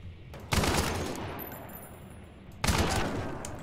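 Avtomat automatic rifle firing in a shooter game, two sharp bursts of rapid shots about two seconds apart, loud and close, each trailing off into a brief decay.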